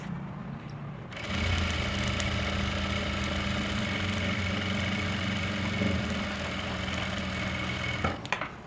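A sewing machine stitches a salwar mori, a steady close whirring hum that starts after a second of quiet and runs evenly until a brief clatter near the end, with no talk.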